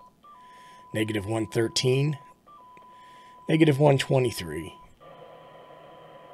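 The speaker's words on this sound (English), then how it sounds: "You can hear some static in there, some noise, but you can still hear the tone." A steady, faint test tone comes through a Radioddity GS-5B handheld ham radio receiving a weak signal, with low static hiss underneath. Someone talks over it in two bursts.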